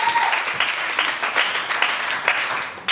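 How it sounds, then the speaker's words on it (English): Wedding guests at the speeches applaud the bride with a sustained round of close, dense clapping from a roomful of people, no voices over it. "Give a round of applause for her."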